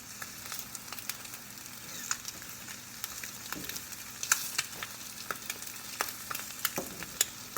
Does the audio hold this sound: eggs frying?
yes